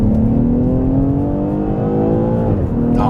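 A BMW X6 xDrive 40i M Sport accelerating hard, its engine note climbing steadily in pitch from inside the cabin, loud and continuous, with a brief dip near the end like a gear change before rising again.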